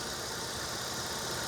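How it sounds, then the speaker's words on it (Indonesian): A 2007 Hyundai Avega automatic sedan with a four-cylinder engine idles smoothly, giving a steady, close hum with no rough knocks. "Dan ini suara mesinnya"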